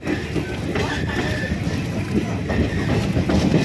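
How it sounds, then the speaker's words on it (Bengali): Uttar Banga Express running on the rails after departing New Jalpaiguri (NJP) station, a steady rumbling rolling noise with faint rhythmic clatter, continuous and fairly close, with some background voices. "আর ট্রেন কিন্তু নির্ধারিত সময় এনজিপি স্টেশন ছাড়লো"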